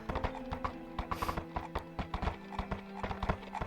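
Horse hooves in a VR roleplay game clop in a steady, close rhythm on a hard surface, with a brief breathy snort partway through.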